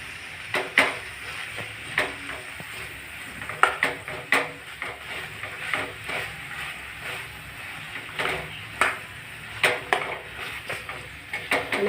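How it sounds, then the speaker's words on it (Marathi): Spices for a mixed vegetable dish being stirred together in a cooking pot, repeated metallic scrapes and clinks of a spoon against the pot at a steady, uneven rhythm, with a faint sizzle underneath. "आता सगळे मसाले एकत्र करून घेऊया."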